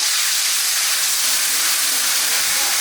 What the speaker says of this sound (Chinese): 锅烧热，我们下油哈。 这个油要稍微多点儿。 豆瓣酱，先炒豆瓣酱哈。